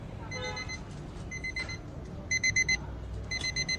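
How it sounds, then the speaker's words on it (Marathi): Ringing alarm clock sounding in repeated short beep bursts, growing into rapid clustered pulses, loud and close over a steady low background hum. "आपला अलार्म चालू झाला की हे पहा, बॅक साईडला एक स्विच आहे"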